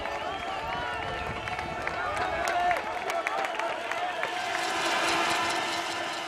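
A Czech crowd at a cross-country mountain bike World Cup race in Novo Mesto cheering and shouting in a sustained, rising roar with whistles, mixed with a commentator's voice over it.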